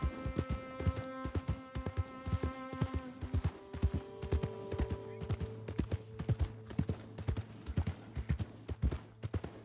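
Hooves clip-clop in a quick, steady rhythm in the video game Red Dead Redemption 2, over a droning musical background, close and fairly loud throughout.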